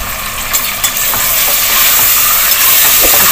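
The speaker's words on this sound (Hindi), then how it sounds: "इसको हम भूनेंगे थोड़ा।" Coarse fresh masala for chicken chana dal pulao fries and is stirred in a hot pan, a loud close continuous sizzle with scraping stirs, no talking.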